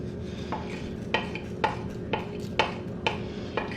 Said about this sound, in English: So dry roast these till you get a nice aroma coming from the spices.